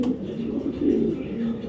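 A male racing pigeon coos in a loud, steady, low throaty rumble close at hand, with a voice speaking over it.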